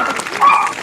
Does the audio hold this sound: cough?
no